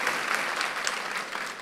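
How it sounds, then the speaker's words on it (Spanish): A church congregation applauds during a sermon, a brief burst of dense, continuous clapping from many hands at steady loudness. "Démosle un aplauso a Luis"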